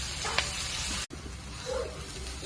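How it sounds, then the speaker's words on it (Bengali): Green chillies and potatoes frying together in hot oil for a paneer chowmein, giving a steady soft sizzle with a brief clatter, a short break, then continued low hiss. "কাঁচা লঙ্কা আর আলু একসঙ্গে কিন্তু তেলের উপরে দিয়ে দিচ্ছি। দিয়ে আমি ভাজা করে নিচ্ছি।"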